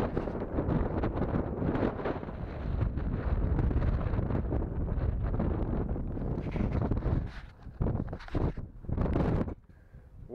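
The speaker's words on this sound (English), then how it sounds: "Sorry about the wind." Strong wind buffets the microphone at a rocky Texas roadside picnic area, a loud continuous rumbling roar with gusty surges that briefly drop away near the end.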